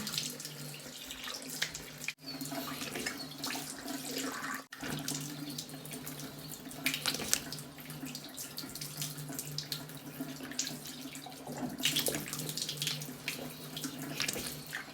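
Tap water runs steadily into a sink while a mud face mask is rinsed off, a continuous close splashing stream with small shifts as hands move through it.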